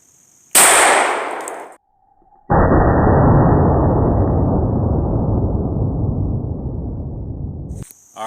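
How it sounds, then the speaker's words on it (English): A Glock 40 10mm MOS pistol fires at pumpkins, giving one loud, sharp blast that rings off briefly, followed after a pause by a long, heavy roaring burst that slowly fades before cutting off. "the test weapon for today is the Glock 40 10mm MOS, and we're going to start out with pumpkins today."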